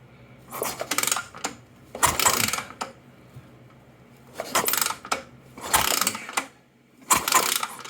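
An old Honda 350X motorcycle that sat for years is kicked over repeatedly to check for spark. Each kick brings a loud metallic ratcheting clatter from the starter mechanism, in four or five bursts about two seconds apart, with no engine catching.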